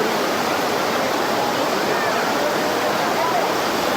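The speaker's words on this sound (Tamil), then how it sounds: "இந்த அருவி சவுண்டும் தண்ணி சவுண்டு தான் நிறையா கேட்கும்" Courtallam waterfall thunders with dense, steady rushing water, a loud continuous roar filling the whole stretch without pause or voices.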